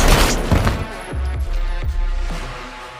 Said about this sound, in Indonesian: Brian yang akhirnya tiba di ruangan Playa langsung disambut rentetan tembakan dari Playa dengan kedua senjata di tangan